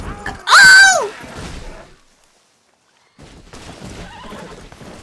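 A horse in the video game Red Dead Redemption 2 gives one loud, shrill whinny near the start, followed by silence and then soft hoof clatter and faint background sounds.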